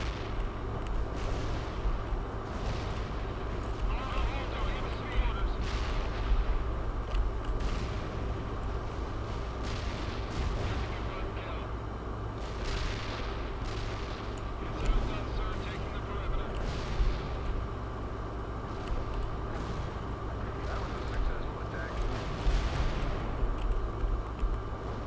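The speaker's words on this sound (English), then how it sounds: "That is a lot of explosions." Rapid explosions and artillery fire from the video game World in Conflict, a dense, continuous barrage of booms and blasts over a steady low rumble, with frequent sharp bursts throughout.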